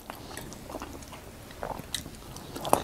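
Crispy fried paçanga börek pastry bitten close to the mic, with a few soft crunchy chews building to one sharp, loud crunch near the end.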